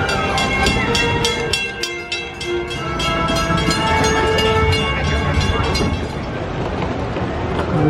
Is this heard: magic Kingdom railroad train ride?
yes